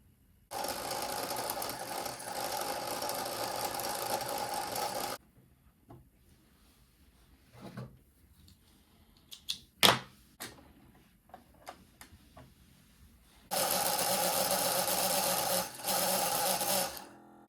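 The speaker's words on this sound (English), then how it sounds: "Some of these bobbins don't have the hole that you just put the thread up through, so you have to wind them" A sewing machine winds black thread onto bobbins in two long bursts of steady whirring, close and clear. Between the bursts come quiet clicks and handling noises.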